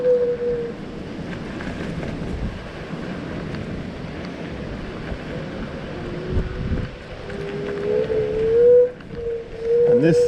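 An electric Kaabo Mantis 8 Pro Plus scooter riding fast at around 25 mph, with steady loud wind rush and road rumble throughout and a rising motor whine near the end.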